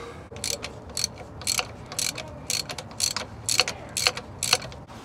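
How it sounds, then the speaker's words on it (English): Hand ratchet working 14 mm axle bolts loose on a Toyota Corolla with a C60 manual transmission: about a dozen evenly spaced clicking strokes, close and clear, no speech. "So we're gonna remove that bolt and that bolt to remove the passenger axle out."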